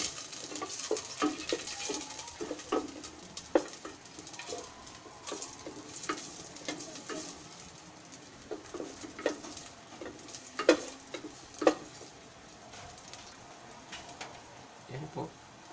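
Garlic sautés in hot cooking oil, giving a steady sizzle broken by scattered crackles and the clatter of stirring utensils, close up and moderately loud.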